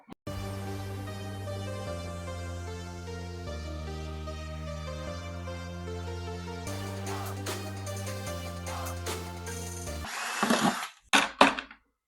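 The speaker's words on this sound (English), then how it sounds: "We're going to drill a series of holes at the top for airflow" A power drill boring holes in a plastic bucket whines steadily for about ten seconds, its pitch stepping between levels, then stops with a few short bursts and clunks.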